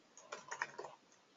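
A short burst of quiet typing on a computer keyboard as a password is entered, about half a dozen soft, quick key clicks in an uneven rhythm.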